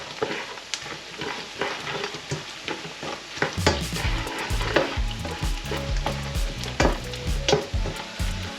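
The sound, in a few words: onion and saffron threads frying in a pan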